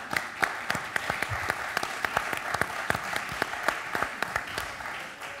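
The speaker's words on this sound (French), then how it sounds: "on peut l'applaudir" Audience applause for a speaker at a rural farmers' conference on local livestock breeds, steady medium-distance clapping with sharper individual claps throughout and faint murmuring.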